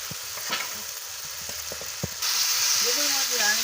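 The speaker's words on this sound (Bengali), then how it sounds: "আমি এবার আলুটা দিয়ে দিচ্ছি, দিয়ে আলুটা মশলার সঙ্গে ভালো করে কষিয়ে নিচ্ছি।" Potatoes fry and get stirred in a sizzling spice paste while preparing a fish curry, a steady hiss running through the whole clip with scattered stirring scrapes and knocks and a louder, brighter sizzle in the second half.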